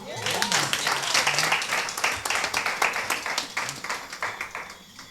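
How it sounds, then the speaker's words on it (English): Guests at a Rotary Club installation ceremony clap in a lively, uneven round of applause that tapers toward the end, with voices talking and murmuring beneath the clapping. "Don't she deserve a round of applause?"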